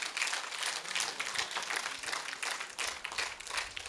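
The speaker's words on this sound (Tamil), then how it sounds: "பவள விழா கொண்டாடுகின்ற நமது அருள் சகோதரிகளுக்கு நாம் அனைவரும் பலமாக கைத்தட்டுவோம்" A church congregation claps for nuns celebrating their platinum jubilee at a parish feast, a moderately distant patter of many hands, continuous and fairly soft.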